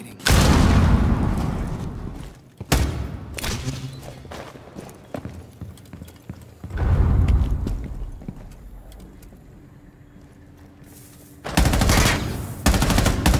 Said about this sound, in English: Detonating.